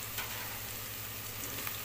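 Garlic frying in a pan as turmeric is stirred in, a steady close sizzle with light stirring scrapes throughout, no talking.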